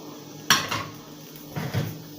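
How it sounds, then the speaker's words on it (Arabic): A metal cooking pot clanks sharply once, followed by a few lighter knocks and scrapes, then a second duller clatter near the end; close and brief. "انا هنا جبت حله احط عليها معلقتين سمنه كبار"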